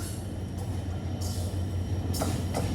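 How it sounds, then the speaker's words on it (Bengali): The Padma Express passenger train idles during a five-minute halt at Shahardah station, a steady low rumble and hum broken by a couple of short hissing bursts of air near the end. "শহরদহ স্টেশনে পদ্মা এক্সপ্রেস ট্রেন বিরতি দেয় 5 মিনিটের জন্য"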